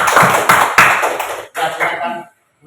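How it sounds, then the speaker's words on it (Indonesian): Classroom of students clapping for a group presentation, a dense burst of hand claps with a few sharper hits, fading into a smaller patter before dying into silence. "Kita tepuk tangan dulu."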